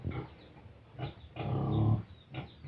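Pigs on a small farm grunt and squeal in a few rough bursts, fairly close and moderately loud, with no voices over them.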